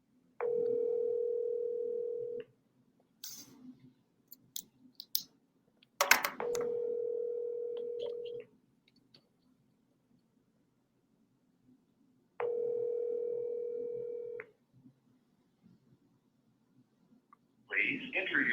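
Outgoing phone call ringback: three long steady tones repeat at about six-second intervals, separated by short clicks and faint background noise, followed by a brief chime at the end.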